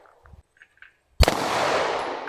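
A single sharp, loud gunshot at an outdoor shooting range, its crack followed by a long rolling echo that slowly fades, after a few faint voices and quiet moments.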